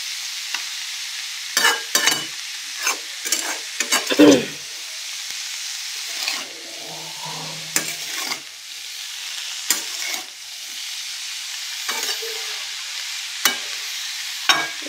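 A spatula scrapes and stirs cabbage with potatoes and salt frying in a small wok, steady soft sizzling underneath and a dozen or so sharp, irregular scraping strokes standing out clearly.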